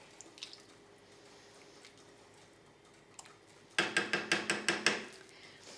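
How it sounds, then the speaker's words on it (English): A spoon works through a pot of kale soup with carrots, potatoes and celery, giving a quick run of about seven evenly spaced clanks and scrapes against the pot after a few quiet seconds. "I'm going to give this a stir."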